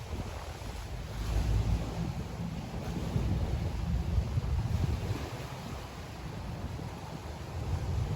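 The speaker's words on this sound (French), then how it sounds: "Il y a beaucoup de vent." Strong wind buffets the microphone at the seaside, a constant low rumble that swells and eases in gusts, with possible surf underneath and no talking.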